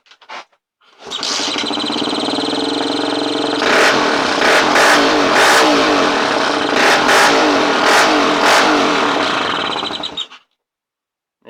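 A pit bike engine, started by hand, roars to life and revs hard for about nine seconds, loud and close, rising and falling through several sharp throttle bursts before cutting off.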